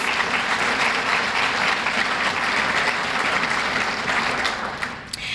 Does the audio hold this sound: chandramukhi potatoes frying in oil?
no